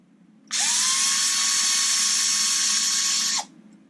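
A power driver spins out a screw on an Arrma Vendetta RC car, one continuous high whine lasting about three seconds, close and loud, then stopping abruptly.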